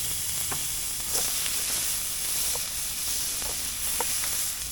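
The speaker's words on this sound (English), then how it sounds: "in with our onion, in with our garlic, nice old piece of Irish butter" Onion, garlic and a piece of Irish butter sizzle steadily in a hot pan, a continuous close hiss dotted with small pops and crackles.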